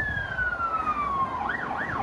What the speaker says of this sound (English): Have you ever noticed a sound of a vehicle coming towards us have a different pitch compared to when it's going away from us?